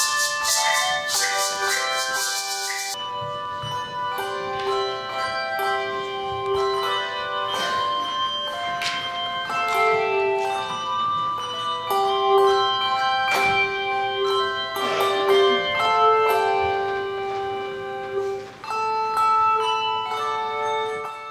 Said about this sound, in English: the way bell ringing is different from other instruments